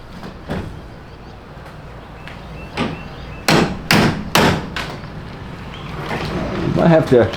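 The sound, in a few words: hammering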